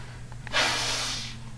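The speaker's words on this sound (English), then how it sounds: "I blow my nose." A child blows their nose in one firm, breathy burst lasting about a second, close and loud against a quiet indoor room with a low steady hum underneath.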